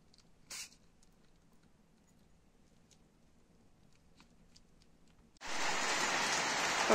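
Rain falls outdoors with a wet, pattering hiss that starts suddenly and strongly near the end, after a quiet stretch of soft ambient noise and a brief sharp knock.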